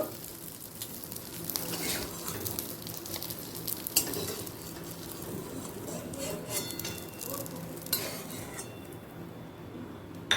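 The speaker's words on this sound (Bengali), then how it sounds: "বাকি বড়াগুলো ঠিক একইভাবে ভেজে নেব" Sesame and poppy seed fritters fry in mustard oil with a steady, close sizzle, joined by occasional stirring scrapes and light clinks of a utensil against the pan throughout.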